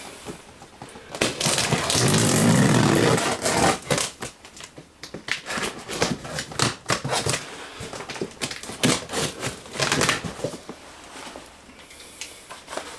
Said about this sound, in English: Alright, so let's cut this open.